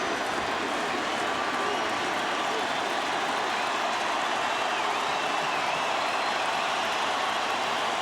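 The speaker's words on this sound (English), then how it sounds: "the chant now from the crowd at Turner Field" Dense crowd noise at a Braves baseball game at Turner Field, a broad steady roar of massed voices chanting throughout, fairly loud and continuous with no break.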